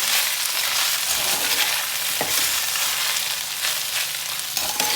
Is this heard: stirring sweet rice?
yes